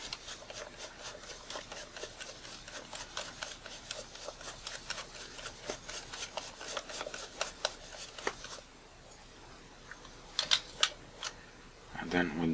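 Close, rapid ticking and scraping clicks as a lens spanner unscrews the front element of a Nikon Nikkor 18-105mm or 18-135mm lens, the clicks thinning out toward the end, where a few louder taps sound.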